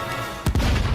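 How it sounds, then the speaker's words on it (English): A sudden loud boom erupts midway on a ship deck in the animated series Star Wars: The Bad Batch, followed by rumbling low-end blasts and debris noise that carry on to the end. "Explosion on deck."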